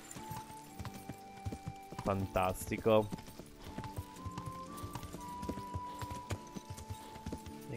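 Hooves of a horse clip-clop at a walk in the medieval video game Kingdom Come: Deliverance, a soft repeated patter over background music, with a brief horse whinny and snort and someone speaking over it.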